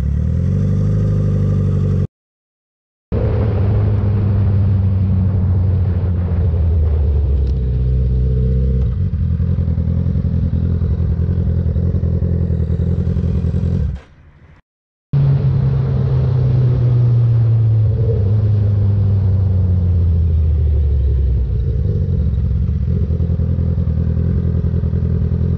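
A motorcycle roars close by during a music video shoot, its engine revving and falling in long pitch sweeps with clattering thumps, broken by two short cuts to silence; no one speaks.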